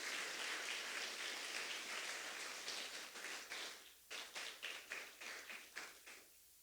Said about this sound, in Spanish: Entonces, un aplauso para el Señor, para el Espíritu Santo.